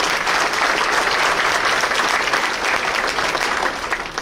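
Sustained applause from a banquet audience for city council members seated at a table, a steady dense wash of clapping that holds throughout and eases slightly at the end, with no talk over it.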